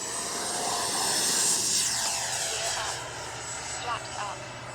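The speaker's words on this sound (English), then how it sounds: "we're gonna take off from down there with takeoff flaps" A Freewing Avanti S V2 RC jet with its flaps set for takeoff, a loud, steady electric ducted-fan whine building near and holding throughout, with wind rumble beneath.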